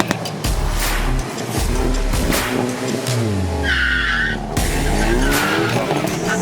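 A 2020 Hyundai Veloster N with a manual gearbox makes a launch-control start on a race track: the engine is held at high revs, then climbs hard as the car launches, with loud tire squeal and skidding close by.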